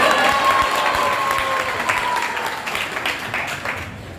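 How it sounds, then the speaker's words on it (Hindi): An audience at a spiritual lecture on the Bhagavad Gita claps in a continuous round of applause, fairly loud and close, gradually thinning toward the end. "आपको ताली बजाना है।"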